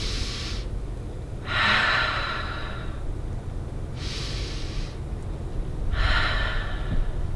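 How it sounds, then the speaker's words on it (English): Big inhales through the nose during a kids' yoga story: four sniffing breaths in a slow, even rhythm, close and fairly loud over a steady low background hum. "They took a big inhale to try and smell some of their favorites."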